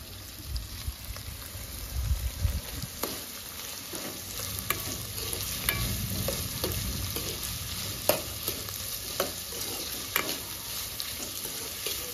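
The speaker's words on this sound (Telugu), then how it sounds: "రెండు రెమ్మలు కరివేపాకు వేసుకుందాం." Curry leaf sprigs frying in a pan for a mango dal and drumstick curry, a soft, steady sizzle with scattered crackles and stirring clicks, close by and alone.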